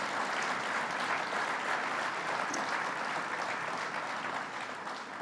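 An audience applauds at a budget announcement event, a steady wash of clapping from a crowd that holds throughout and eases slightly toward the end.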